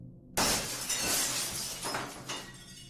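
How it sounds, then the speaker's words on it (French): Glass shatters suddenly and loudly, a bright crash of breaking glass followed by a scatter of tinkling fragments and a second smaller burst, alone with no voices. "Un fracas de verre brisé"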